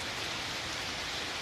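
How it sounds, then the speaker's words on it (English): Rain falling on a rainy evening in Bangalore, a dense, steady hiss of drops with no breaks, moderately loud and close, with no voices. "I can just stand here, watch the rain, take a long breathe, and just smell the rain"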